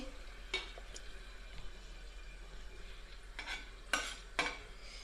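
Whole spices frying in a pan for chicken stew, stirred with a utensil: a faint low sizzle broken by several sharp scraping strokes and clinks, close and quiet, with no talking.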